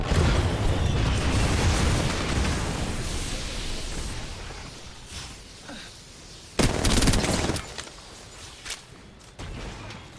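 Grenade explosions in Apex Legends, a heavy rumbling blast at the start fading away, followed by sharper bursts and gunfire later, loud and close.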